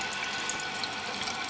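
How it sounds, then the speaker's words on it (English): Water keeps rushing steadily from a leaking toilet fill valve even after the shut-off valve is closed, a continuous close hiss with no pauses. "and the water still coming in"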